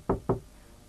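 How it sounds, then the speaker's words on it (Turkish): Two quick, firm knocks land on a door, close and distinct, followed by quiet. "Kapı çalıyor."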